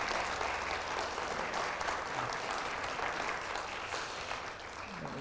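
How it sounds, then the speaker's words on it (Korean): A church congregation applauds to welcome a missionary couple, steady dense clapping sustained for several seconds at a moderate distance, with no talk over it. "잠깐 일어나시면 박수로 환영하겠습니다"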